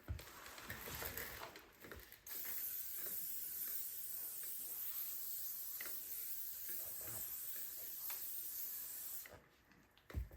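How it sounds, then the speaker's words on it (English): A long, steady hiss of silicone aerosol spray onto a 57mm cannon's wheel runs for several seconds, loud and close, with a short burst before it and faint clicks and handling noises around it. "We're just going to spray in there real heavy."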